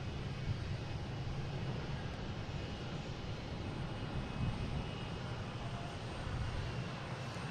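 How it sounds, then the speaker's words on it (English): An American Airlines plane takes off from Boston Logan, a continuous distant jet roar with a faint high whine, steady and unbroken, no talk. "Just had American Airlines take off heading to Chicago"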